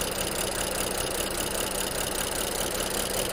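A BMW E61 535i wagon engine idles roughly, a steady, dense mechanical drone that holds without letup, with the cooling fan running.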